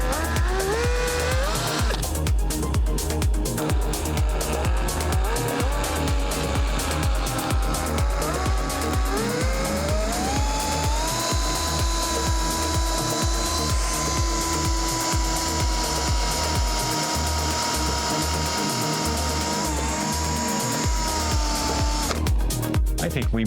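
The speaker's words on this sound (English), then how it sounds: "I think we might need to drill a pilot hole first" A power drill runs in long, steady whining bursts whose pitch climbs and holds while boring a pilot hole during an RV cellular signal booster install, loud and close, with speech throughout.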